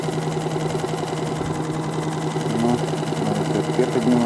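A small outboard boat motor hums steadily and close, its even droning buzz continuous throughout with no pauses, on a river.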